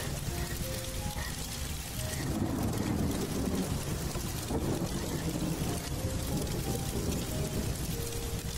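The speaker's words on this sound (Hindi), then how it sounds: "बारिश आ गया भाई" Steady rain falls in the video game Undawn, a dense continuous hiss that grows heavier partway through, with faint game tones over it and no talking.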